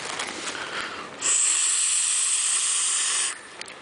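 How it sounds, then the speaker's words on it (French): A vaper exhales a large cloud of e-cigarette vapour from a raspberry-flavoured e-liquid, giving a soft breathy rush that swells into a loud, steady hiss lasting about two seconds before it cuts off. "Donc on a une bonne production de vapeur."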